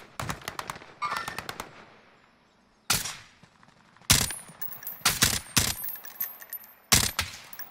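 Call of Duty Warzone gunfire in Verdansk Resurgence: short rapid automatic bursts and sharp single shots spread across the clip, loud and close, with quiet gaps between volleys and no talking.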